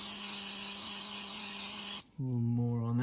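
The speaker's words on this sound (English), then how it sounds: "so spray some rust check there" Rust check lubricant sprays from an aerosol can onto a Yamaha golf cart brake in a long, steady hiss that cuts off abruptly, followed by a brief whistling tone.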